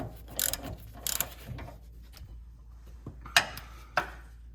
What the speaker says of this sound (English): tighten this top one up. This is 17 millimeter